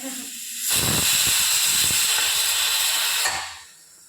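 A pressure cooker cooking rice lets out a loud, sustained steam whistle and hiss lasting about three seconds, rising abruptly and then cutting off, with a quiet kitchen before and after.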